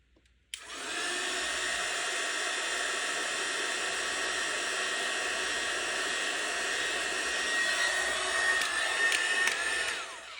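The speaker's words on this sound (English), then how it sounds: "I'm going to take my heat gun" A heat gun blows steadily on epoxy resin, a loud continuous airy roar that starts abruptly and holds for about ten seconds, slightly rising in pitch near the end.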